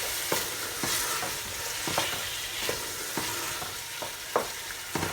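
A spoon stirs rice and pilau mix in a cooking pot, giving repeated scraping strokes at a fairly steady rhythm over a low sizzle. The sound is close and clear, with no talking.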